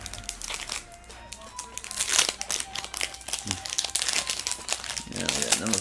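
Dollar Tree Pokemon Sword & Shield card packs are handled and torn open, with steady close crinkling and crackling foil wrapper sounds while a person talks over them.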